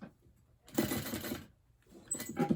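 Sewing machine top stitching along the side of a fabric bag, with two bursts of running stitches separated by a quiet pause.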